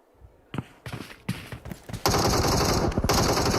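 Automatic gunfire crackles in PUBG Mobile, beginning as scattered single shots and then becoming a dense, sustained burst, loud and close.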